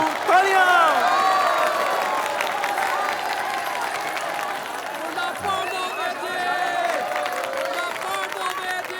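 Guests at a Punjabi wedding celebration applaud, a dense wash of clapping and crowd noise that runs steadily throughout at an even level, with singing and voices threaded through it.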